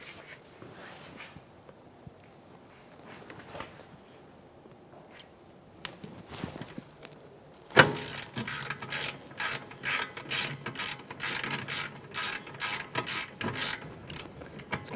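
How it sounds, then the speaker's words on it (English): A ratchet with a 17mm socket works loose the rear caliper bracket bolts on a 2013-2018 Toyota RAV4, quiet fiddling first, then a loud crack followed by a quick run of close, rhythmic clicking. "with a 17mm socket, I'm going to break these mounting bolts free"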